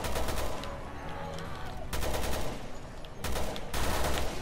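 Repeated gunfire in a video game raid mode, rapid bursts of shots in close succession across several seconds, loud and up front, with a short pause between volleys.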